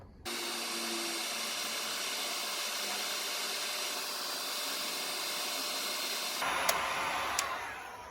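A heat gun blows hot air onto an old spike on a golf shoe, making a steady, close whooshing hum that runs unbroken for about six seconds and then changes tone as the nozzle shifts. A couple of faint ticks sound near the end.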